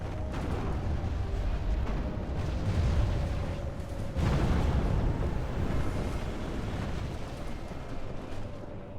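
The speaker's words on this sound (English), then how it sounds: "Let's start blasting that wall as well." Siege artillery blasting a castle wall during a medieval siege battle, heard as a dense, continuous roar of booming explosions and rumbling impacts with a fresh surge of blasts partway through, loud and sustained.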